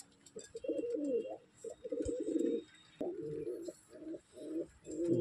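Fancy pigeons, white Lakka and black-and-white Shiraji birds, cooing close by in repeated throaty rolling phrases separated by short pauses, with faint background ambience and no talking.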